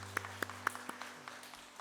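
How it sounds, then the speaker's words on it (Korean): A church congregation gives a brief round of applause, sparse individual claps spaced out at an uneven rhythm, faint and roomy over a low hum. "큰 축복의 박수 보내겠습니다"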